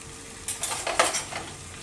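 A utensil whisks curd into water in a pan, giving a few brief scraping and clinking strokes at moderate volume with no voices.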